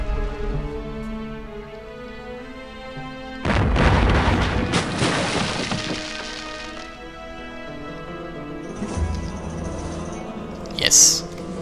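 Explosions in the video game Indiana Jones and the Emperor's Tomb: one big booming blast with a few seconds of rumbling decay, then a smaller burst and a sharp pop, over the game's music.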